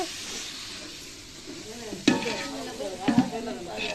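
Chicken biryani is stirred in a pot of hot oil with coriander and mint leaves, a soft steady sizzle broken by two scraping stirs, with faint background voices.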